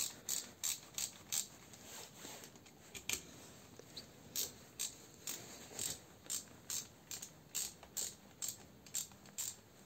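A ratchet tightens the four housing screws of a Nissan Tiida alternator with quick, rhythmic clicking in about twenty even bursts, close up and clear over a quiet background.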